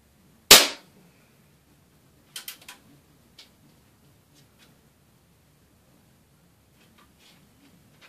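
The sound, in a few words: Daisy air rifle shooting .22 wadcutter pellets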